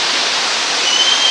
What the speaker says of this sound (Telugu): ఇది మొత్తం అయితే రాయకల్ వాటర్ ఫాల్స్